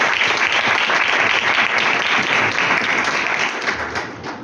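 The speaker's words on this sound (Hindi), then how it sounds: "यीशु नाम के लिए जोर से तालियां बजाएं।" A church congregation claps loudly in sustained, dense applause that fades slightly toward the end, with no speech over it.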